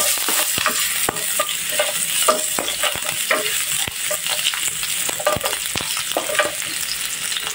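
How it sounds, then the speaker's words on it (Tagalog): Ginger sautés in hot olive oil with a bright, continuous sizzle, broken by frequent scraping stirs of a utensil against the pan, up close. "At kapag mainit na, igigisa natin yung ating ginger."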